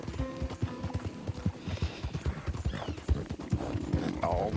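Horse hooves clip-clop at a steady trotting rhythm in the Red Dead Redemption 2 video game, close and fairly quiet, with faint game ambience and no talking.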